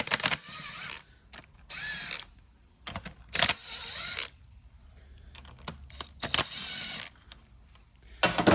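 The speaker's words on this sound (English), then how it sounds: "We're going to pop these bolts back loose." Bolts are loosened on a Nissan Frontier with a ratchet, heard as bursts of rapid clicking and whirring separated by short pauses, close and fairly loud, plus scattered metallic clanks.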